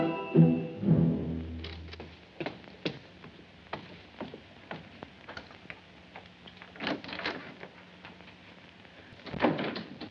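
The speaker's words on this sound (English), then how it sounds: "Close that door." A door shuts with a solid thud near the start in a 1948 film noir office scene, followed by scattered footsteps and light knocks across a quiet room.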